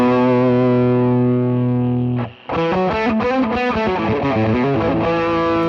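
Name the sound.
guitar fuzz pedal cranked to distortion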